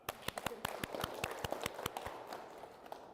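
A small group of people claps for a volunteer at a personal-trainer masterclass, giving a short burst of scattered, uneven hand claps that fades out after a couple of seconds.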